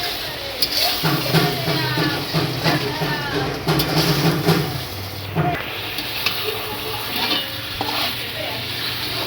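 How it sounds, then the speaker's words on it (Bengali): Water poured into a pan of sautéed spiced meat in a home kitchen, with steady frying sizzle and stirring throughout and a brief surge partway through, loud and close. "এরপর আমি পরিমাণ মতো জল দিয়ে দিই"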